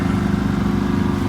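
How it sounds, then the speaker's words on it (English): A Honda portable generator runs steadily outdoors in light snow, a continuous close engine drone with a low, even hum and no changes in pitch. "Got the generator plugged in there, the Honda's going."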